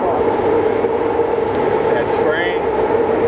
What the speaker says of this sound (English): When that train passing, we gotta pause. So loud.